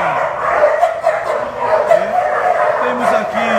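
Dogs bark and yip in a kennel fenced off with cardboard, sounding as a busy, reverberant chorus of overlapping barks under someone talking.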